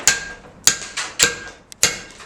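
A round, bell-shaped hammer strikes a chisel on stone during traditional hand carving. Five sharp, close ringing taps come at an uneven pace, each decaying quickly, with no voices.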